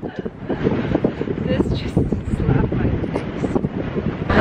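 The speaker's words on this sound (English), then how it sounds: "We're trying to take some pictures, but the wind is blowing." Strong wind buffets the microphone outdoors in Santorini, Greece, a loud, continuous rumbling gust that barely lets up, with people talking through it.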